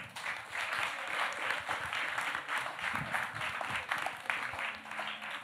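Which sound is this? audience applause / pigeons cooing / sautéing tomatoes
audience applause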